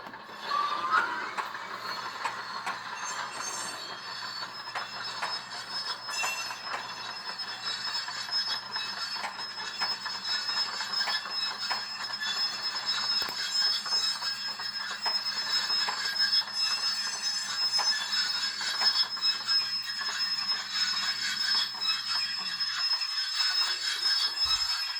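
A Soundtraxx Soundcar model train sound decoder plays a synthetic train brake squeal, a sustained high-pitched whine over steady rolling rail noise and faint rhythmic clatter, continuing at even loudness for the whole stretch without any talking.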